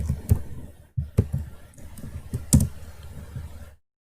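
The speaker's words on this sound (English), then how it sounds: "Go to Google and type Python." Keys tapped on a computer keyboard in short uneven bursts of clicks, close and fairly loud, with brief pauses between strokes before cutting to silence.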